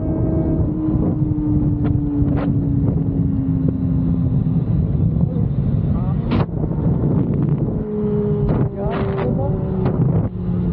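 A motorbike riding at night down a well-lit road through a residential part of Cagayan de Oro City, engine droning steadily with pitch shifts and rushing wind buffeting the microphone, close and loud throughout.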